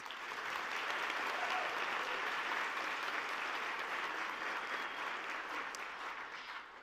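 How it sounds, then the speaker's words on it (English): An audience at a spring 2025 graduate convocation breaks into steady, sustained applause, a dense wash of clapping that holds evenly for several seconds before tapering off at the end. "so let's give them a round of applause."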